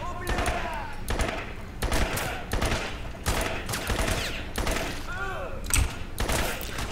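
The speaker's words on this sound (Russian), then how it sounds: "Не видно, откуда стреляют постоянно" Repeated bursts of gunfire in the 2007 video game Crysis, loud rapid volleys coming every second or so, with a voice talking over the shooting.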